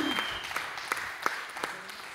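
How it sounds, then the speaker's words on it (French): Scattered hand claps from an audience during a plenary session at a social-impact conference, a few distinct claps standing out over a thin background of clapping, fairly quiet and brief. "Et on peut l'applaudir d'ailleurs lui-même."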